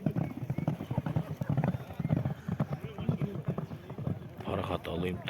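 Racehorses gallop in a rhythmic hoofbeat clatter throughout, steady and fairly close, while a commentator talks continuously over the pounding.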